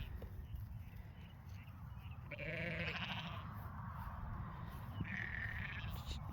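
Ewes bleating on a farm, two drawn-out wavering calls a few seconds apart, moderately close, over steady outdoor background noise.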